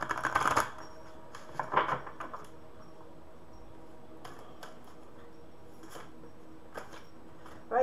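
A quick riffle of cards near the start and another around two seconds, followed by faint scattered taps and handling noises in a quiet room.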